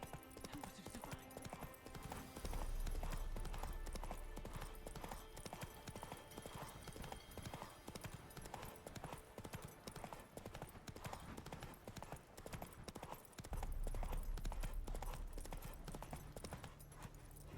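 Roach, the horse in The Witcher 3, trotting with a steady, even rhythm of clip-clopping hooves throughout, fairly quiet, with low rumbling swells around the third and fourteenth seconds.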